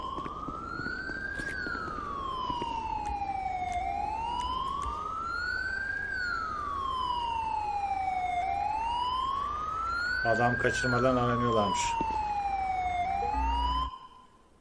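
An ambulance siren from a GTA 5 police mod wails in slow rising and falling sweeps, loud and continuous, with a brief spoken line partway through before the siren cuts off at the end.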